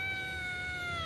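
A small house cat gives a single steady, drawn-out meow, close and fairly quiet, with no talking over it.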